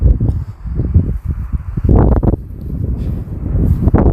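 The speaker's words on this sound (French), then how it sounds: "J'arrête pas de le dire, mais il y a du vent." Gusty wind buffets the microphone outdoors during an Autel Nano Plus drone flight, a steady low rumble with louder bursts and rustling that swell and ease throughout.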